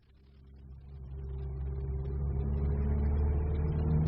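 An engine rumbles steadily and grows gradually louder, a low continuous drone with no voices.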